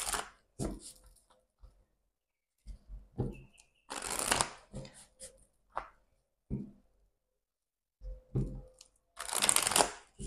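Oracle cards shuffled close up in quick crisp bursts of riffling and sliding, separated by short silent gaps, with a few faint handling noises between.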